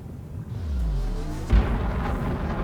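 A spaceship engine in the game Elite Dangerous produces a steady low rumbling drone with a rising whine, swelling with a brief thump midway, fairly quiet throughout.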